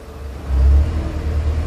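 A cold Audi A3 with the 1.8 20v engine runs nearby as a steady low rumble. The engine swells briefly in a short rev, then settles back to a loud, even idle, with no talk.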